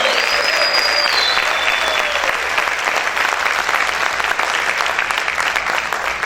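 A church congregation claps loudly and continuously during a Spanish-language worship service, a dense, sustained wash of applause with faint whistle-like tones early on.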